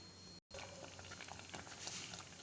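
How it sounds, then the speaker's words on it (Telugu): Rice flour boiling in a pot of water as a batter for oil-free puris, a quiet, steady bubbling and popping with one brief dropout. "ఇలా బియ్యపిండి పోసేసి మరుగుతున్న నీళ్ళలోకి ఒక పది నిమిషాలు అలాగే మరగాలి"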